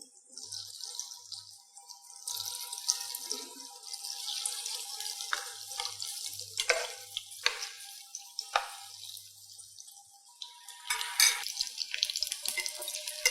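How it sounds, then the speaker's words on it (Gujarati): Sev rolls frying in hot oil, a steady hissing, bubbling sizzle with occasional sharper crackles and pops, close by and without talk. "અને હવે આપણે બીજા પણ તળી લઈશું."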